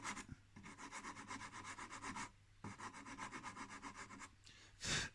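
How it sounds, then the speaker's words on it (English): Sandpaper rubs back and forth on a wooden dowel in a joinery job on sash window weight doors, a rapid rhythmic rasping in two bursts with a short pause between, close and quiet. "Just come in with a little bit of sandpaper on the dowel."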